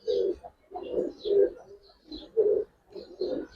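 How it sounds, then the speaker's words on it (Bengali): A male Giribaz pigeon of an old breed coos close by in a rhythmic run of soft, low, throaty phrases, about six pulses with short gaps between them, with no voices over it. "চুইনা একটা নর কবুতর ভাই"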